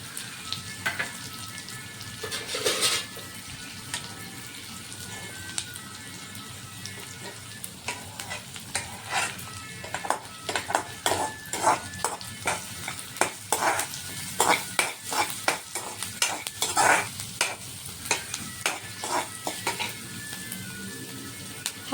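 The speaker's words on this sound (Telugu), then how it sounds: "ఒక కప్ ఆఫ్ ఆనియన్ అనేది వేసుకొని ఫ్రై చేసుకోవాలి" About a cup of chopped onions fry on high flame in a pan, giving a steady close sizzle broken by repeated scraping and clinking strokes of stirring, with no voices.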